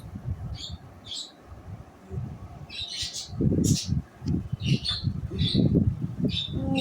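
Birds on a balcony give short squawks and chirps in scattered bursts, some sharper and nearer than others. A low, soft background murmur runs beneath them throughout.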